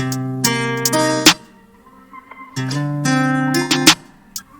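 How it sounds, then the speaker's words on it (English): Off-beat hi-hats in a guitar-driven FL Studio trap beat, placed to create a bouncing, pulling groove over sustained guitar chords; two loud phrases separated by a brief quieter gap, no voices. "And so you can create like little off-beat bounces that sound like really good."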